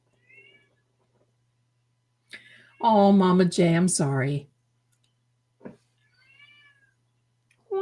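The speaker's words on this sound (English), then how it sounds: "Yeah, it's meowing." A house cat meows close by in a long, loud, drawn-out cry, followed later by a short chirp, while a person speaks briefly before and after it.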